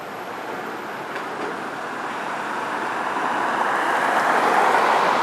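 Norfolk Southern train NS 240 rolls slowly north past Inman Yard on the Greenville district, a steady broadband rumble and rail roar that builds gently in loudness over several seconds, with no voices.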